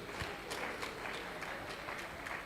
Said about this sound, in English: Please, a round of applause for him. Keep clapping.